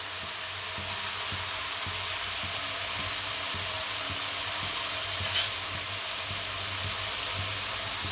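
Mixed vegetables with garam masala, cardamom, cinnamon and crushed cloves sautéing in a pan, a steady close hiss and sizzle with faint regular stirring knocks underneath.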